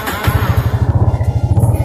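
A new Honda Revo Fi motorcycle being cranked with its electric starter gives off a rapid, steady train of low thumping pulses, close and loud, with no talking.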